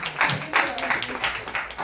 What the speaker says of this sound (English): Let us give a good round of applause to each one of us